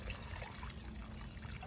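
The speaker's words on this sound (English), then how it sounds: "So I'm gonna pour off the water." Rinse water trickling and pouring off a batch of fountain stones, a soft, steady liquid dribble heard close and fairly quiet, alone without any talk.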